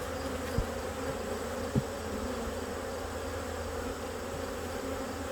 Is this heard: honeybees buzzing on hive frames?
yes